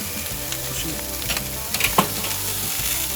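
80/20 beef burger patties sizzle and crackle steadily on a charcoal grill, a close, continuous frying hiss with small pops and no talking.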